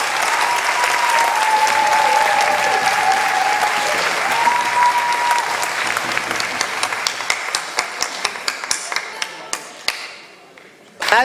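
Audience applause at an awards ceremony in Gent, a loud full crowd clapping that gradually thins into scattered individual claps before fading out.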